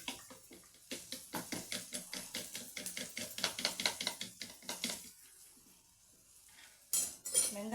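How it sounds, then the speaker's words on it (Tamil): Eggs beaten in a bowl with a utensil for a Tamil-style egg scramble, a quick steady run of clinking strokes for about five seconds, then a pause and a brief final burst of clatter. "நல்லா முட்டையை மிக்ஸ் பண்ணிட்டு"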